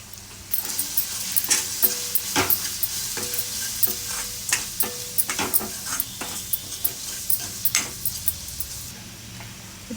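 Masala frying with salt, turmeric and chilli powder, a continuous sizzle punctuated by repeated rhythmic spatula taps and scrapes against the pan, close and fairly loud.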